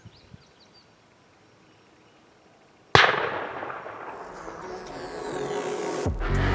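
A single loud shotgun blast during an outdoor spring turkey hunt in Maryland cracks sharply after a quiet stretch, then rings into a long rolling echo that swells again.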